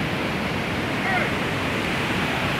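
Steady roar of a waterfall at Cachoeira do Urubu in a forest setting, heard as broad, constant rushing noise at close range with no breaks.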